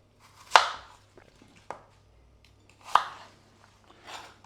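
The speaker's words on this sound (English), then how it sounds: "Just chopping a few apples." Apples are chopped on a board for apple crumble: four sharp knife strikes spaced unevenly over a few seconds, close and clear against a quiet background.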